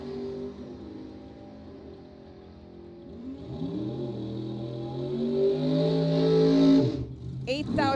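Engines of a Chevelle and a pickup truck at a bracket drag race rev and build in a rising, sustained roar, with an announcer talking over them throughout.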